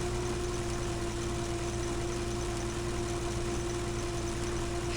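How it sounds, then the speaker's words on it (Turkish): Tractor engine in the Farming Simulator 15 video game runs at a steady, moderately loud drone with a constant low hum and a sustained tone, with no talk over it. "Abi bu traktör de çok yavaş gidiyor."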